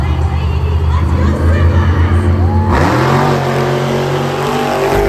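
A Monster Jam monster truck, Mohawk Warrior, races in an arena. A loud engine roars steadily, then revs up into a rising, climbing whine, under crowd and announcer noise.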